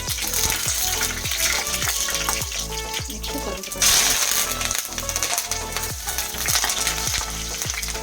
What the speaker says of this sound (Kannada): ಸಾಸಿವೆ ಆ್ಯಡ್ ಮಾಡ್ಕೊಳ್ಳೋಣ ನೆಕ್ಸ್ಟ್ ಒಣಗಿದ ಮೆಣಸಿಕಾಯಿ ಚೆನ್ನಾಗಿ ಫ್ರೈ ಮಾಡ್ಕೊಬೇಕು